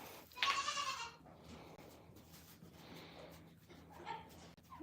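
Triplet dairy goat kids bleat nearby. One loud, wavering bleat comes early, then softer cries follow against a quiet farm background.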